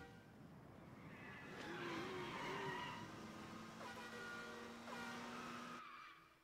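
Bowser's upgraded clown car in the Super Mario 3D World video game, a game engine drone with skidding, screeching tones rising and falling over several seconds, fairly loud and steady before cutting off near the end.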